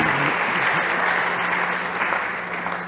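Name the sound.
applause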